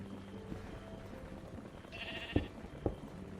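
A sheep in a video game gives a short bleat over a low, steady game background, with a couple of faint thuds just after.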